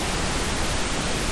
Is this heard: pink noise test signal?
yes